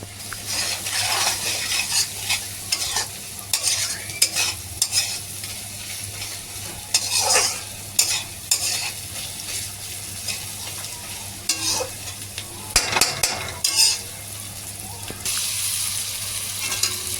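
Onion and ginger-garlic paste fry over low heat in a pan, a steady sizzle broken by repeated scraping and clinking strokes of a spatula as the mixture is stirred.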